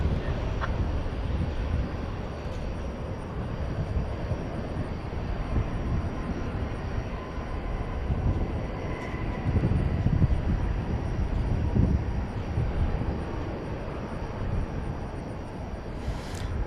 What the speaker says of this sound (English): American Flight 78 is just about to lift off for London Heathrow.